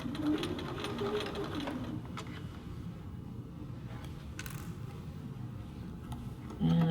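A sewing machine running continuous permanent stitching on the sleeve of a little girl's dress between two rows of basting, a close steady mechanical whir with light creaks.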